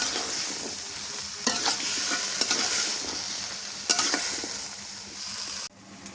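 Okra, potato and eggplant fry in hot oil with a constant loud sizzle, broken by several sharp scrapes and knocks of a spatula against the pan before the sound abruptly drops away.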